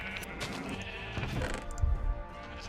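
Sheep in Minecraft bleat in a quick overlapping cluster, close and fairly loud, with several wavering calls packed into a couple of seconds.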